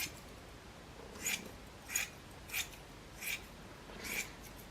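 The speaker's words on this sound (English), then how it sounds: "You can cut fiberglass with just about any pair of scissors" Scissors snip through fiberglass cloth in five evenly spaced crisp cuts, each a short rasping slice over a faint quiet background.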